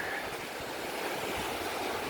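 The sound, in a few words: ocean water and waves at Tybee beach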